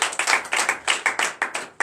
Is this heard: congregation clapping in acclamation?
yes